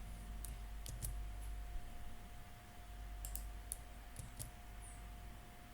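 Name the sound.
typing the Kahoot game PIN on a keyboard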